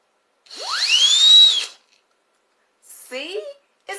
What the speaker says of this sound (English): Let's blow the whistle.